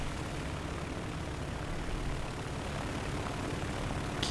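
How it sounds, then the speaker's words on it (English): Propeller planes, among them a Swordfish, an HS-123 and a Stuka, take off from a runway in War Thunder. Their engines make a steady, loud, broadband drone that holds without a break. "All our planes are taking off from the runway"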